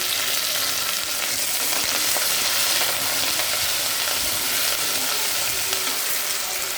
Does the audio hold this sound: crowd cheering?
no